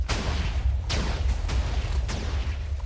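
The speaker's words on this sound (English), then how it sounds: "That's a big explosion to be processing." A huge chain of TNT explodes in Minecraft, several deep, booming blasts spaced about half a second apart over a continuous low rumble, loud and close.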